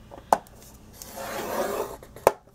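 Paper being scored on a scoreboard, two sharp taps at the start and end with a soft dragging scrape between them, faint and close.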